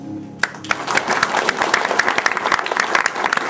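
An audience at a veterans' honouring ceremony breaks into applause, with dense, lively clapping that starts abruptly and continues loud and sustained, with a faint murmur of crowd voices.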